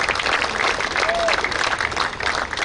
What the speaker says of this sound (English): I request all of you to give a big applause to them.